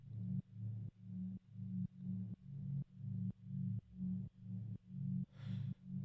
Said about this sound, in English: Let's start with deep pad here. Let's see what that sounds like.